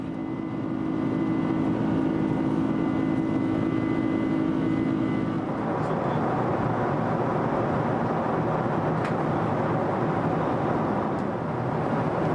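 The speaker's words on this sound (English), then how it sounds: "those 4 engines just sound too good" Four engines of a Lufthansa Boeing 747-400 climbing out of Toronto, a continuous loud roar heard from the cabin with steady tonal hum that shifts partway through.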